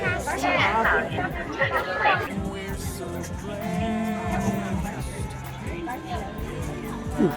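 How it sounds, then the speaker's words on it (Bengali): Dense crowd chatter near Xiama Archway metro station in Nanjing, a steady babble of many overlapping voices close by, running continuously with footsteps and street bustle mixed in. "অনেক ভিড়"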